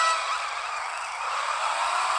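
An original Shelby Cobra roars at high revs in the CSR Classics racing game, a steady bright engine howl that swells a little toward the end, with no voices over it.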